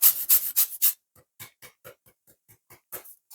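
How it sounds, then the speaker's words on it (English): Lime zest is grated against a metal grater in a home kitchen, a run of four loud rasping strokes followed by a series of lighter, quicker scrapes, close and alone. "I'm going to put a bit of grated lime zest in this."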